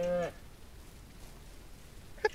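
A cow in the Ranch Simulator game gives one short, loud moo at the start, then a near-silent pause before a brief faint call right at the end.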